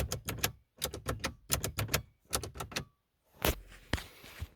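Switches inside a Mazda 323f clicked repeatedly by hand, sharp close clacks in quick bursts of three to five with short pauses, ending in a couple of heavier clunks and faint rustling.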